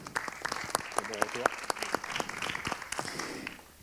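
An audience applauds at a round-table discussion on energy performance and heritage buildings, a dense burst of clapping lasting several seconds with voices talking over it.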